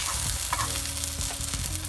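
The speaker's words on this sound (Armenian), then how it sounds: "Այս ձեթը մի քիչ բերենք այս կողմ, այսպես թող տապակվի" Food sizzles and crackles steadily in hot oil, with a few utensil scrapes and stirring sounds over the frying.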